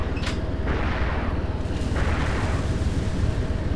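Weapons fire from a military helicopter game: deep rumbling booms and sharp reports under constant rotor-like drone, loud and continuous with a few distinct shots rising out of the din.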